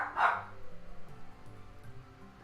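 Dogs barking in Pokémon Brilliant Diamond, one short bright bark at the start, then faint game background sound.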